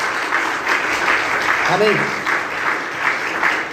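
A church congregation claps steadily and evenly throughout, with a voice briefly speaking over the applause.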